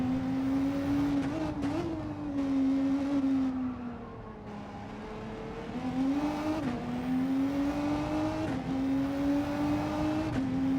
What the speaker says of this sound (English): Here's JB in the biggest nerfed car of the update.